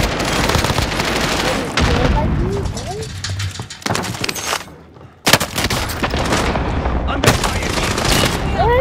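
A frag grenade blast and bursts of gunfire in Call of Duty: Modern Warfare, loud rattling fire broken by sharp booms and a brief lull, with in-game callouts over the top.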